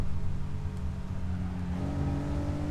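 A stock Honda NSX engine drones around Laguna Seca in the Assetto Corsa racing game, a steady mid-pitched hum that shifts and rises slightly in pitch as the car accelerates, close and continuous with no talking.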